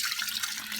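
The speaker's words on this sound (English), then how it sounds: "now I can go ahead and pour that into my glass container" Cooled homemade sweet tea for kombucha pours into a glass container, a close, steady splashing stream of liquid that lasts under a second with no talking.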